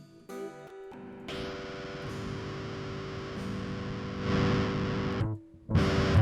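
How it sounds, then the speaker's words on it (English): An electric guitar runs through the FL Studio Distortion effect set to Destructor, sounding thick and buzzing as sustained chords ring, swell louder, cut off briefly and come back. "I have my electric guitar going through my guitar input 2, which is going to Distortion, which has Destructor as an effect."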